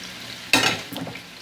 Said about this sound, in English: Now I'm going to put all this in the skillet.